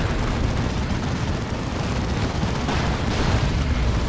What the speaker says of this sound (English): Another big hit from a plasma cannon